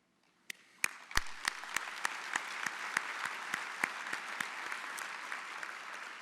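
Audience applause for award recipients at a joint opening session, starting with a few sharp claps and quickly building to steady, sustained clapping from a moderately distant crowd.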